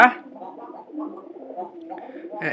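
Pigeons being raised for sale coo softly and continuously at close range, a low throaty warble that rises and falls without a break.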